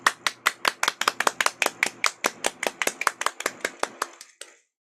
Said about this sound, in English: Please give them a 拍手 applause.